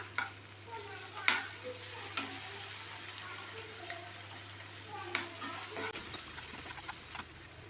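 Tomatoes sautéing with ginger garlic paste for mutton sukka give a soft, continuous sizzle in the pan, with spatula scrapes and taps at intervals and a low background hum that cuts out near the end.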